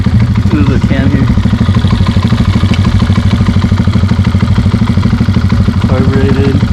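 A carbureted Harley Sportster with an SPC Lanesplitter exhaust idles close by, a loud, steady, lumpy bubbling pulse throughout, with people talking over it.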